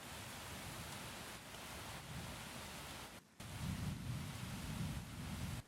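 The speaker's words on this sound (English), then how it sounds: "Underneath all that, I have some Brooklyn Rain and Thunder." Brooklyn rain and thunder ambience layered under a lofi beat: a steady broadband wash of rainfall with low rumbling, briefly cut near the middle, then returning louder and fuller.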